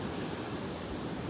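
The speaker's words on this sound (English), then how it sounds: "battling the wind, battling the breeze." Blustery wind gusting outdoors, a steady loud rushing roar buffeting the microphone throughout, with no voices.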